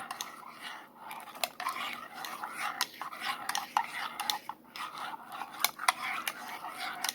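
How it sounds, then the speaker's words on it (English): A spoon stirs hot chocolate in a mug, giving soft repeated scrapes and light clinks of metal against the cup, close and fairly quiet, with brief whispery sounds in between. "So we're just going to go ahead and stir it"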